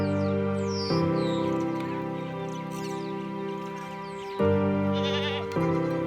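Goats in a Pokot herd bleating loudly and repeatedly, several overlapping calls close by, with a sustained nasal bleat running through and other animals crying in the background.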